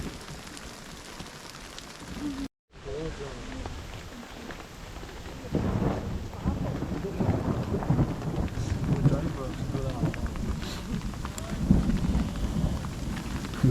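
Heavy rain pours steadily on Toubkal, North Africa's highest mountain, with a deep rumble of thunder rolling underneath. The downpour grows louder partway through, and faint voices come and go.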